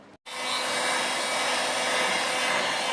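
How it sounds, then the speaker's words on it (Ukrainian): A technical heat gun drying freshly applied putty on a wall being prepared for painting: a loud, steady blowing whine that starts abruptly after a brief pause and holds without variation, close to the listener. "Я зараз візьму фен технічний і феном нагрію."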